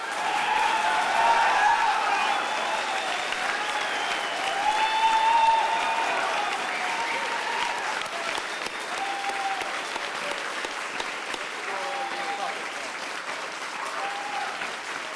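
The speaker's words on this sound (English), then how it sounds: "the first thing I would like for him to hear would be a good round of applause from everybody" A conference crowd at a hacker gathering gives a long, sustained round of applause, broad and even, with scattered cheers and voices rising above the clapping.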